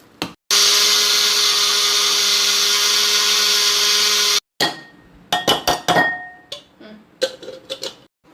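A blender jar grinds energy bar ingredients in one loud, steady burst of about four seconds, then stops abruptly, followed by a string of clinks and knocks from the jar and utensils.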